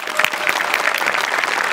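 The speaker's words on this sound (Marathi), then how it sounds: "जोरदार टाळ्या" Loud, continuous studio-audience applause greets the end of a performance on the Marathi comedy show Maharashtrachi Hasyajatra, a dense, even roar of clapping with no voices.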